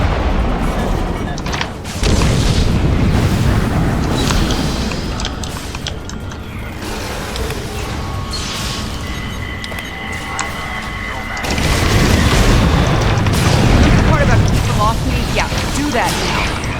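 A propane tank blows up in a video game with a loud, deep boom, then a second heavy blast follows several seconds later, amid dense game noise and mechanical clatter.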